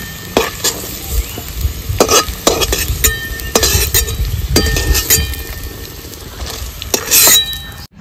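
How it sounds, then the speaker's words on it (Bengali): Fried potato pieces are lifted out of hot oil in a pan in a village kitchen, with steady loud sizzling under repeated scraping and sharp metal clinks of a utensil against the pan. "এই যে আলু আমি ভেজে নিয়েছি,"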